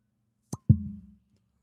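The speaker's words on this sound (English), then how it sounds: "That's a funky cork pop." A cork pops from a small squat bottle: a short sharp pop, then a fuller, lower thump that fades over about half a second, heard close in an otherwise quiet room.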